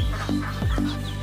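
Native chickens cluck at a small home farm in a few short, close calls over a steady low background hum.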